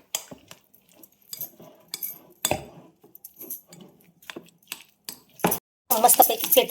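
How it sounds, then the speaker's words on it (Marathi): A spoon scrapes and clinks against a pan while cheese mixture is stirred for cheese chilli toast, making sparse irregular metallic taps and scrapes followed by a louder burst of clattering. "आता व्यवस्थित हलवून घेऊ आपण हे सगळं व्यवस्थित मेल्ट करून घ्यायचं आहे हो"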